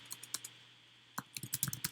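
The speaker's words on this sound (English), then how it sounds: "you'll begin typing your reflection here" Quick, uneven clicks of fingers typing on a computer keyboard, close and crisp, breaking off briefly before a denser run of keystrokes with no one talking.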